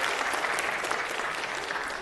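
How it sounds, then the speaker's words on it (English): A large crowd claps for a student speaker at a city council meeting, a dense steady burst of applause that fills the whole stretch at even loudness with no talking over it. "Let's give Josh a big round of applause."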